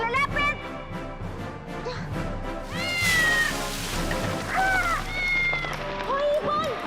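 A cat meows several times, rising and falling cries heard over a busy background of music and voices.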